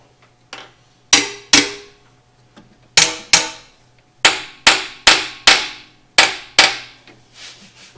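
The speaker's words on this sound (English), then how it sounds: "We just need a bigger hammer." Sharp metallic hammer blows on a stuck 360 engine from a 1977 Dodge Monaco ring out in uneven clusters, about a dozen strikes with pauses between groups, close and loud with no talking.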